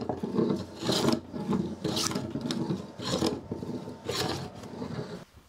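Repeated long strokes of a Stanley No. 62 low angle hand plane shaving the top of a wooden workbench, each rasping pass loud and close in a steady back-and-forth rhythm, with no talking.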